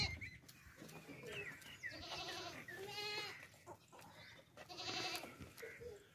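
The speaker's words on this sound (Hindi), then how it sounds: "ये देखिए भाई, ऊंची लंबी ना बड़ी बकरी है" A large, tall female goat bleats several times, loud and close, in drawn-out wavering calls with short pauses, while other farm animal noise carries faintly behind.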